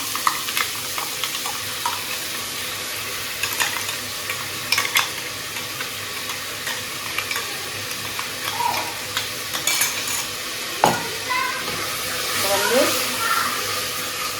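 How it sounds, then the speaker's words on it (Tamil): Tomatoes, ginger and garlic sautéing in a pan, with a constant frying sizzle and occasional scraping stirs and utensil taps, steady and close throughout with no voice. "தக்காளி இஞ்சி பூண்டெல்லாம் நல்லா வதங்கட்டும்"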